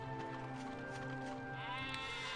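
Quiet game music plays in Dragon Quest VIII on PlayStation 2 as a sheep lets out a brief quavering bleat toward the end, soft and close, with no voices present.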